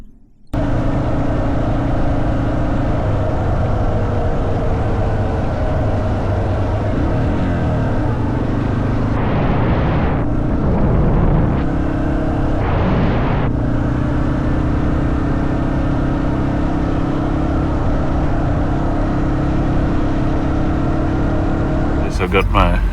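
A ute drives steadily along a dirt track with a constant engine drone and rumbling tyres, close and continuous, with a couple of brief whooshing surges partway through.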